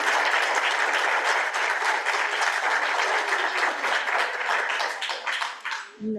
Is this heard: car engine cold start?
no